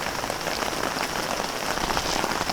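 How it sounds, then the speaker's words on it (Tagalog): Steady, dense rain pours down at a campsite, pattering hard on surfaces in an unbroken hiss. "Habang lumalamig na lumalamig ang panahon gawa ng ulan."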